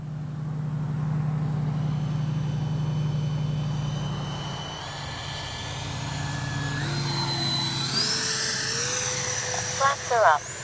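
Kavan Skyfox L-39 80mm RC jet flying a slow pass, a steady engine hum at first, then a rising whine that climbs sharply in pitch as it approaches, with a voice talking faintly underneath.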